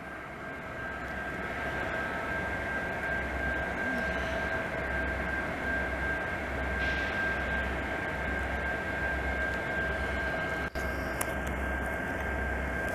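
A long CN intermodal freight train with several locomotives passes in a Montreal snowstorm, giving a steady, distant low rumble with a faint sustained tonal whine and soft rhythmic thumping, broken once by a brief sharp click.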